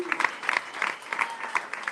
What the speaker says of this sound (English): So everyone give a round of applause for that.